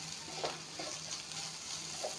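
Oats fried in a pan for oats poha, sizzling softly and steadily with faint scrapes of stirring, close by and quiet, with no talk.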